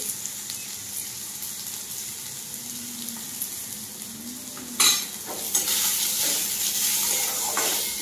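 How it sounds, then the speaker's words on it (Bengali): Diced potatoes fry with turmeric and salt in a pan, giving a steady close sizzle. A sharp clatter of stirring comes near the middle, and the frying grows brighter and louder afterward. "কেটে রাখা আলু এর মধ্যে দিয়ে এবার দিয়ে দেবো 1/2 চামচ হলুদ আর পরিমাণ মতো লবণ দিয়ে আলুগুলোকে সুন্দর করে আমি ভেজে নেব"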